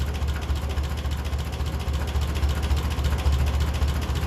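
A 1957 Ferguson 35 tractor running on TVO idles steadily, a low continuous engine rumble close by with a slightly uneven pulsing beat and no voices.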